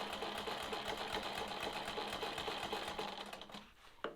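A sewing machine quilts in the ditch along a ruler on a sawtooth star block, a steady fast stitching chatter close up that slows and stops near the end.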